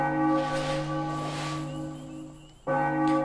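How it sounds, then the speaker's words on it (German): A church bell with a broken bell mechanism tolls in the video game Enigmatis: The Ghost of Maple Creek, a resonant ringing tone that decays and then strikes again, loud and clear with no voices. "Doch die Glocke schlägt unermüdlich weiter."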